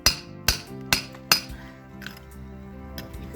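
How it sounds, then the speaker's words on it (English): Four ringing metal hammer strikes land in quick, even succession during repair of a leaky garden fish pond liner, followed by a fainter tap and a quieter clink later on. "I'm not sure that he can work a hammer very well."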